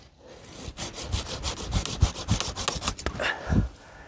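A hand saw cutting through a tree stem at close range, giving a quick series of rhythmic rasping wooden strokes that speed up and then slow near the finish.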